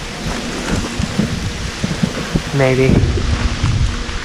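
Heavy hail and rain batter surfaces outdoors during a 2025 ice storm, a dense, constant roar with a short rumble of thunder partway through and someone briefly speaking.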